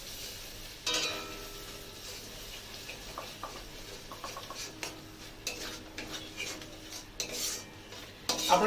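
Paste of ground cashews, sesame and poppy seeds going into a pan for a milky cashew pointed-gourd curry, followed by steady spoon stirring and faint scraping clinks against the pan, moderately close, with no talking.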